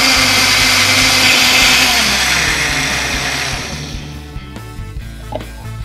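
A blender grinds mango and pineapple for fruit water, loud steady whirring motor that winds down and fades toward the end, leaving a few faint clinks.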